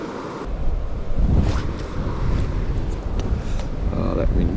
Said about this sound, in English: that wind making it a bit hard